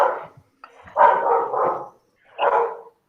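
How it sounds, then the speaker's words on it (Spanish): A dog barks in about three bursts, close and fairly loud, with short gaps of quiet between the barks. "Si ladra mucho me retiraré."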